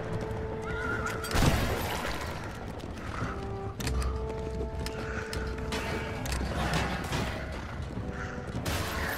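Horses whinnying loudly several times over steady hoofbeats in the video game Rec Room, with a busy background of game noise.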